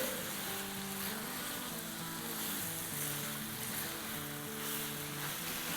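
Chicken keema roasting in a pan for a do pyaaza dish gives a steady, close sizzle and crackle of frying, continuous and even throughout with no talking over it.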